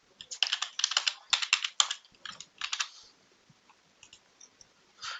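A password is typed on a computer keyboard in rapid bursts of crisp, close keystrokes, trailing off into a few scattered taps and a final click.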